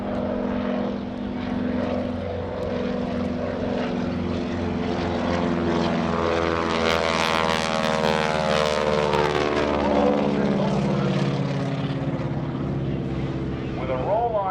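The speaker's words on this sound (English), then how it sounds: "It's a radial piston engine, and listen to the growl." A plane with a 600-horsepower Pratt & Whitney R1340 radial piston engine takes off at a naval air station airshow, its loud steady growling drone rising and shifting in pitch as it passes, with continuous strong engine noise throughout.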